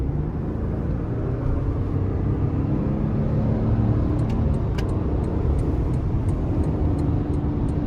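A 2023 Toyota Tundra SR5 pickup with a twin-turbo V6, accelerating hard in sport mode: a steady, loud low engine roar and road rumble holding throughout with no letup, heard from inside the cab.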